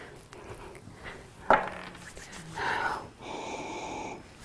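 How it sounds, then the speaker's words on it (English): People breathe deeply through cupped hands holding wild orange essential oil, a few audible sniffs and long inhales with a wheezy, airy quality, one sharp snort-like intake, set against a quiet room. "rub your hands together and cup your hands and try to breathe that in for 30 seconds"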